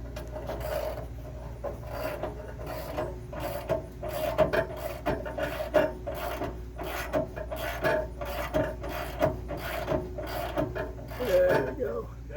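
An HWH hydraulic slide room on an RV, its cylinder seal blown and the slide wall racked sideways, grinds and rasps steadily as it is cranked in by hand, with repeated ratcheting strokes and faint voices in the background.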